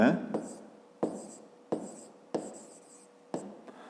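A pen writes a math solution on paper in five or six short scratching bursts, each starting with a sharp tap, separated by brief pauses. The sound is close but fairly quiet.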